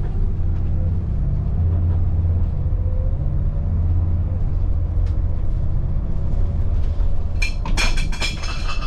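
A Class A motorhome cruises down a straightaway, a steady low road rumble and engine drone from inside the cab, with a brief rattle near the end and no speech.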